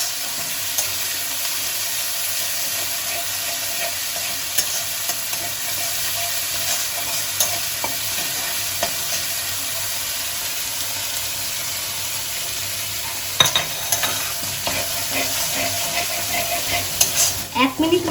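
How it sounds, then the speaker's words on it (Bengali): Ginger and radhuni paste sizzles as it is stirred in a frying pan: a steady, close frying hiss throughout, with scraping and clinks of the spoon toward the end. "আদা আর রাঁধুনি বাটাটা দিয়ে আমি একটু সময় নাড়িয়ে চাড়িয়ে নেব।"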